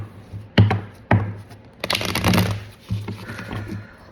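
Tarot cards are shuffled by hand in a few quick bursts, with soft riffling flutters and taps against a table, close and fairly quiet.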